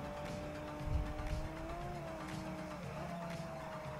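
Steady engine drone of a car accelerating in the Forza Horizon racing game, with a sustained rising-then-settling tone, a brief low thump near the start and faint tire noise throughout, no talking.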